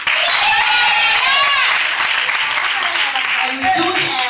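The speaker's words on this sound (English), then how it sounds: "A round of applause for him." Audience applause at a women's high coffee event in Randburg, South Africa: steady, dense clapping fills the room throughout, with voices and cheers rising through it toward the end.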